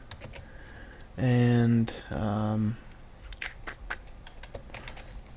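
Someone types code on a computer keyboard, with two short bursts of rapid key clicks followed by scattered single taps, close and clear; a voice speaks briefly.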